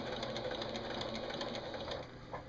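A sewing machine runs steadily while stitching quilt binding a quarter inch from the edge, a close, continuous rapid whirring hum that eases slightly near the end.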